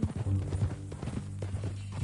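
Horse hooves clip-clop steadily in the Red Dead Redemption 2 video game, with a close, continuous rhythm of hoofbeats over a low game-world background.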